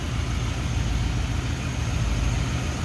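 A 1965 Ford Thunderbird convertible's 390 V8 idles steadily and close, a smooth, even low rumble with a faint high whine on top and no voices over it.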